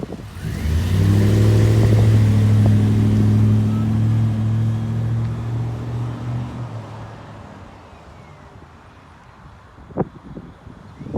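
A lifted 2004 Chevrolet Silverado 1500 Z71 4x4 with a 5.3L V8 rumbles loudly nearby as it pulls away, the deep engine note fading over several seconds, then a few faint knocks.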